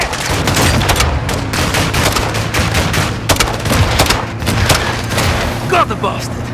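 Rapid bursts of light machine gun fire ring out in a Call of Duty Modern Warfare II battle, dense crackling volleys with booming impacts, loud and continuous under brief shouted voices.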